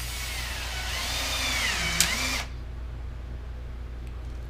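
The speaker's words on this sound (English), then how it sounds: "Guess we're gonna have to drill some holes first." A power drill whirs steadily for a couple of seconds while drilling holes in wood, its pitch dipping as it bites in, then stops, leaving faint room noise.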